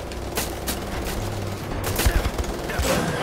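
Rapid bursts of gunfire in the PC shooter Wolfenstein: The Old Blood, loud and close, with sharp repeated shots and booms over game noise.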